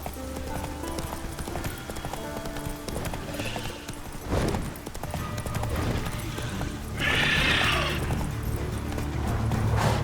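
Horse hooves gallop in the Witcher 3 video game, a steady clip-clop rhythm with an occasional whinny, loud and close over a game soundtrack.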